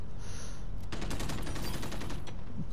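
Gunfire in Call of Duty: Modern Warfare multiplayer, a sudden loud burst of rapid shots that breaks a quieter ambient hum and then keeps rattling close by, with no speech.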